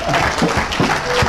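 A church congregation applauds in a short, dense burst of clapping, loud and close, with a few voices mixed in.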